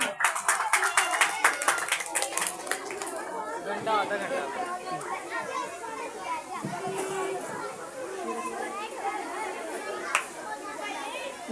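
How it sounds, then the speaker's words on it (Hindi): Lively clapping from a group of children at an Independence Day (14 August) school program, loudest at the start and thinning into excited chatter and young voices. "उसके लिए जोरदार तालियां।"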